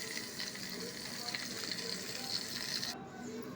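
Brinjals frying in a pan, a soft steady sizzle with faint crackling that runs evenly throughout, quiet and close, the hiss thinning abruptly just before the end.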